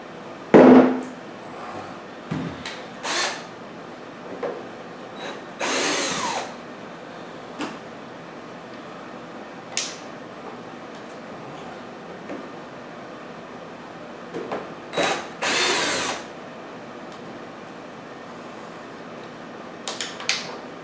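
A battery power tool driving out the back screws of a dog fan, heard as scattered short buzzing whirs and clunks spread across the stretch, fairly close, with quiet gaps and no speech.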